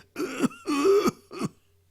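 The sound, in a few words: narrator imitating a father's dry cough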